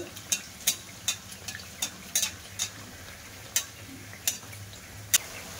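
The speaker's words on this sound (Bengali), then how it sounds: "এবার আমি একটা একটা করে পুরিগুলো সব দিয়ে দেব, দিয়ে ভাজা করে নেব।" Dal puris frying one at a time in hot oil over a low flame give a faint, soft background crackle punctuated by sharp, evenly spaced pops and clicks.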